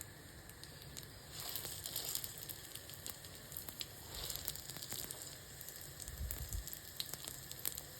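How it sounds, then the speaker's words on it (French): Oil heating in a second frying pan, crackling and sizzling steadily with faint broadband hiss and small pops throughout, no talking, at moderate distance. "Finalement, j'ai lancé ma deuxième poêle. J'attends que l'huile chauffe"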